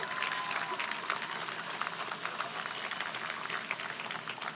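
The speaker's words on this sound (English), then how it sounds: "Let's give them a round of applause." A crowd applauds at an outdoor live event in Times Square, with many hands clapping in a continuous, even patter for several seconds. A few voices blend faintly into the background.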